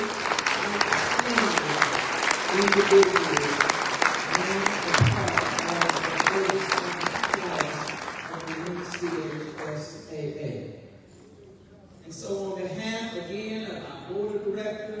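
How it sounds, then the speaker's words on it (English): Sustained applause fills a banquet hall at a high school athletics hall of fame ceremony, loud and dense with crowd murmur, then dies down as a speaker talks over a microphone. "how about another round of applause for"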